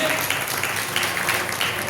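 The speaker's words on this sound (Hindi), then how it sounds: "आप लोग का जोरदार तालियां हमारे गुरु जी के लिए करिए" Loud, dense clapping from a crowd at a yagya gathering at a temple in Krishnalok Colony, Lucknow, a continuous wash of applause for about two seconds, heard close and without speech.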